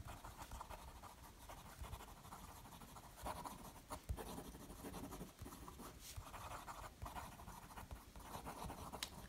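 Visconti Homo Sapiens fountain pen writing quickly on paper, a wet, smooth nib giving a soft continuous scratchy rustle with brief pauses between strokes, close and fairly quiet, no voices.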